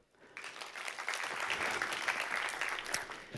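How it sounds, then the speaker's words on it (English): Audience applause from a conference crowd, starting quickly and holding as a steady, moderately loud wash of clapping before beginning to taper. "Teenage parents, please applaud."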